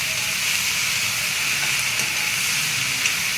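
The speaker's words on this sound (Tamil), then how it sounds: "கொஞ்சமாக கருவேப்பிலையும் நான் சேர்த்துக்கிறேன்." Curry leaves crackle in hot oil, added to capsicum being sautéed for paruppu usili, a dense, steady, loud hiss with a few faint pops and no voices.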